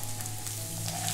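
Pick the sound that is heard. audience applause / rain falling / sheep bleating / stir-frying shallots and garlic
stir-frying shallots and garlic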